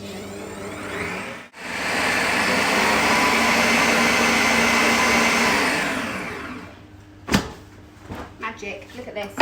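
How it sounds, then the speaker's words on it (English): An electric mixer whisks cream until it splits into butter and buttermilk, giving a steady loud whirring drone for several seconds that then stops, followed by a few clunks and knocks. "carry on whisking until I've got as much as I can out of it"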